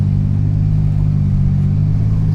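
A Toyota JZX100 drift car's 1JZ engine holds a loud, steady, close drone with a deep throbbing exhaust note, sustained without a break at a winter drift event in Teesside.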